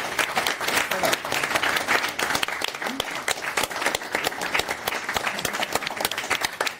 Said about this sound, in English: Maybe if everybody can give a round of applause to the organizers, Ben and Andrew.